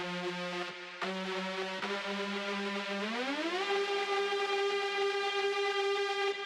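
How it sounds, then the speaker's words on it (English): A long, sustained plucked synth stinger from a Serum preset rings with bright harmonics, and its pitch glides upward partway through. It sounds alone, steady and fairly soft. "really long kind of plucked stingers"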